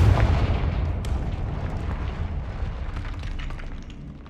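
A Confringo fire spell explodes in Hogwarts Legacy with a loud, low boom at the start, then a long rumbling roar with scattered crackles that slowly tapers off.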